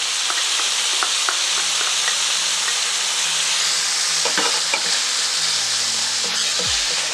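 Ground beef frying with onions and garlic in a hot pan, a dense continuous sizzle with scattered scrapes and clicks of stirring, loud and close, with no voices.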